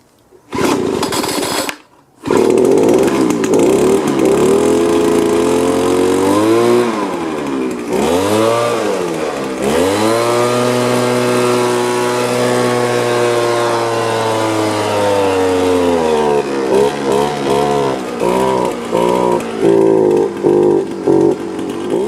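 Homelite gas leaf blower engine, serviced with new fuel lines and a carburetor adjustment, catches after a short start and then runs loud and close, its pitch rising and falling as the throttle changes, with brief pauses and sputters.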